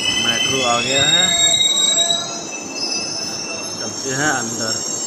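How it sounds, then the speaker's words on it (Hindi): A Delhi metro train rolls in with loud, high-pitched wheel squeals and screeching tones, under steady rumbling; voices are heard speaking briefly amid the noise. "मेट्रो आ गया है"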